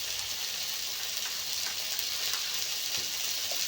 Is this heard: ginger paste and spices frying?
yes